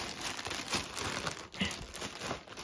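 Plastic packaging around a Scooby-Doo plush crinkles and crunches in close, irregular bursts as it is worked and torn with teeth, with no talking.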